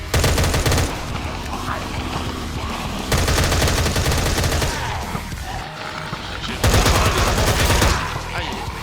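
A turret in the Minecraft Cursed Walking game fires rapid, continuous bursts, loud and close, in three long volleys with brief dips between, while players talk underneath.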